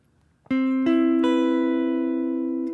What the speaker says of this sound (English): if I just take out the 5th